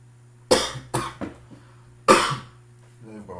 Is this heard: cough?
yes